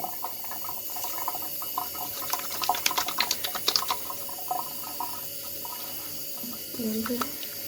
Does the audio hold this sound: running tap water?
yes